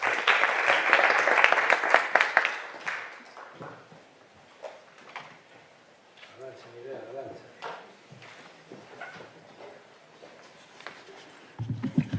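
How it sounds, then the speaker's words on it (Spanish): Audience applause at a conference, a burst of clapping that fades after about three seconds, followed by quiet room noise, footsteps and shuffling before a voice begins at the end. "Un aplauso, por favor."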